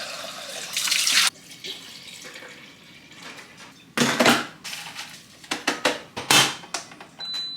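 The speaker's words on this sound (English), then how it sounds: "My faucet was in the way the whole time." A kitchen faucet runs in short bursts while coffee is made, water gushing on and off with dish and cup clatter between pulses, close and fairly loud.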